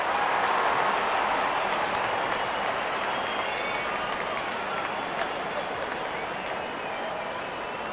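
A large cricket crowd in Cricket 24 applauding and cheering a shot, a steady dense roar of clapping that holds loud throughout and eases slightly toward the end.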